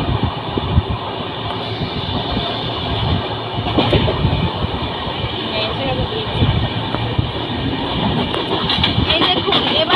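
Madurai–Howrah express train rumbling loudly and steadily across a bridge over the Mahanadi river, heard from on board with continuous rattling, clanking wheel noise and a voice talking over it.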